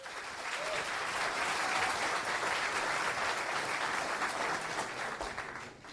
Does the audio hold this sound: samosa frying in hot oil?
no